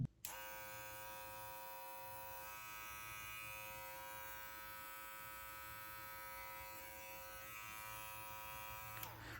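A TPOB Play single-speed hair trimmer switches on and runs with a steady, even electric buzz close by for several seconds, then cuts off.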